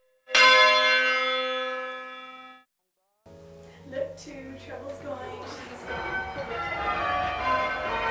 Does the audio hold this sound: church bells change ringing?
yes